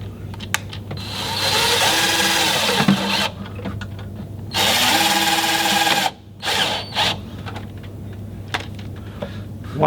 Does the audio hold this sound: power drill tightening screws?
yes